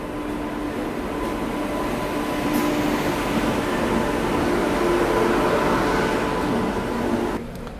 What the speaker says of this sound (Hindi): यहाँ पे देश की पहली तेजस एक्सप्रेस का अराइवल हो रहा है।